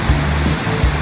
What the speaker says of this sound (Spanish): Qué belleza cascada.